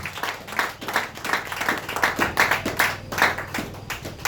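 Church congregation in Kinshasa clapping together in a quick, steady rhythmic beat, a moderately loud roomful of hands sustained throughout.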